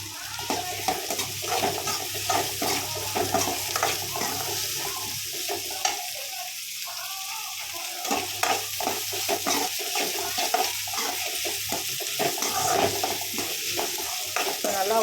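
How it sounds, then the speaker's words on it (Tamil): Onions sautéing in a pan for an egg gravy, a steady sizzle broken by frequent scraping stirs of the spoon, close and fairly loud throughout with no talking. "ஆனியன் சேர்த்து நல்லா வதக்கிடலாம்"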